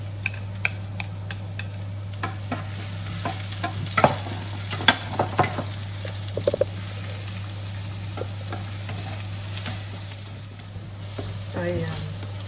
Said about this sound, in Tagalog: So, gisa natin ang garlic.